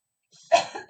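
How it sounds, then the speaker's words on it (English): A single close cough bursts out after a brief moment of quiet, rough and throaty. "I hate when I start coughing like that"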